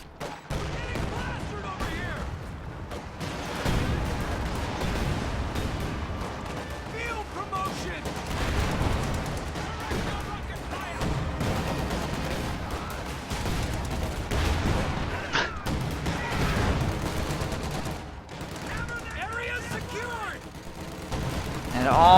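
Dense gunfire and explosions fill a World War II strategy game battle as Volksgrenadier infantry are cut down in a forest, with rapid bursts and booms running continuously under what sounds like voice chatter.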